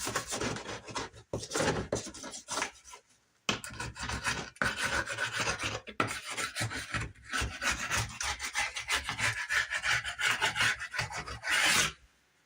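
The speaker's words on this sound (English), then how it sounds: "So a few rough spots there. So let's take our wood chisel." Rough spots on a wooden balcony are scraped smooth with a wood chisel, giving a close, continuous rasping and rubbing sound in long strokes with brief pauses. No one speaks.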